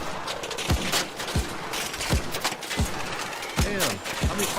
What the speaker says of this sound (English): How many shotgun shots?